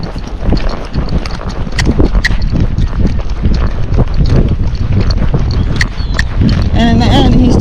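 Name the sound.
young Missouri Fox Trotter horse spooking, hooves clip-clopping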